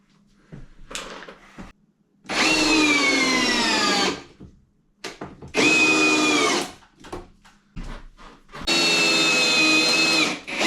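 A power drill drives tiny screws into joists while compromised floor joists are reinforced, sounding as three loud whirring bursts of about two seconds each with short quiet gaps and small knocks between.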